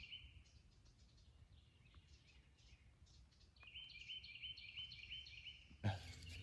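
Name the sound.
birds chirping at sunrise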